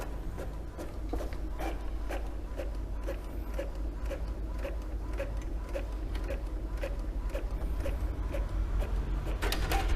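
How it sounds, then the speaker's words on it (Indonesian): An Epson inkjet printer at work after clogged ink nozzles were cleared, giving off a steady stream of light rhythmic ticks and clicks over a low mechanical hum. "setelah ini sudah bisa printer digunakan kembali, dan coba kita lakukan print"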